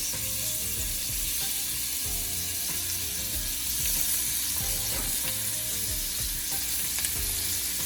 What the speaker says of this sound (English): I'm gonna go ahead and throw my veggie on here. So I have some sweet peppers. I have some onions.